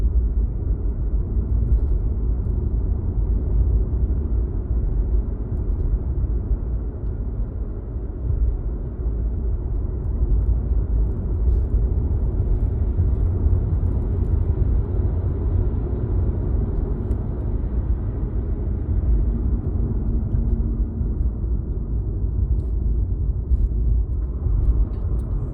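Steady low road rumble and tire noise from inside a Nissan Leaf ZE1 electric car driving toward the foothills, a constant hum with no engine note and no voices.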